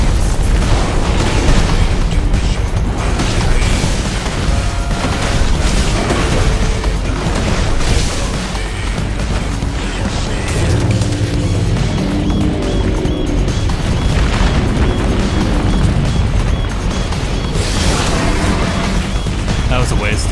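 Dense, booming launcher explosions in the Final Fantasy XVI game, played in New Game Plus Final Fantasy Mode, crash and rumble continuously in a loud, busy battle mix.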